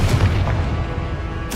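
Booming blasts from the Confringo fire spell in the wizarding video game Hogwarts Legacy, a dense run of loud explosive thuds with a sharp burst near the end, no voices.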